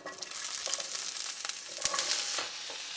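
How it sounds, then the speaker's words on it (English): Squash sautés lightly in a pan with a soft, continuous sizzle, broken by scattered scrapes and taps of stirring. "I don't really fry foods, so I'm just going to lightly saute it."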